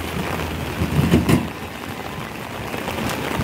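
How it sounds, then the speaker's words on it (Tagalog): Heavy rain pours steadily in a dense hiss, with a few louder thumps and rumbles near the start. "Ang lakas ng ulan."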